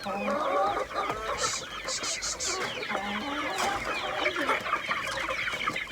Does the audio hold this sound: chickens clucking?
yes